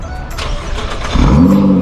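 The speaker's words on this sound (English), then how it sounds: "So Temoor is now off in his dream car, the Nissan GTR. We're going to hear it for the last time again." A Nissan GT-R engine fires up and revs, a loud close rumble that swells partway through into a rising, throaty roar.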